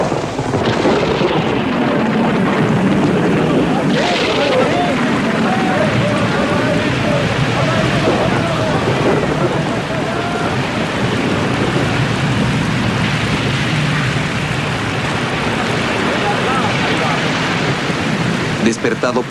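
A storm lashes the Sea of Galilee with wind and rain around a boat, a loud, dense, unbroken roar of wind, rain and rushing water that carries on throughout, with a voice speaking over it.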